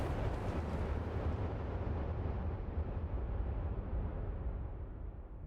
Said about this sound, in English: You put on a heavy grenade launcher to make that a shotgun too?